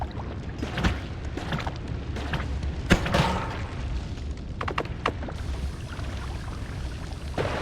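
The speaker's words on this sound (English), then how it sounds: "I'm just gonna swap to the shotgun" Shotgun blasts in the video game Noita, a few sharp bursts spread over several seconds against a steady rumbling background of game ambience.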